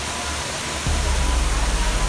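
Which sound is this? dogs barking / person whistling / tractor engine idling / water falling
water falling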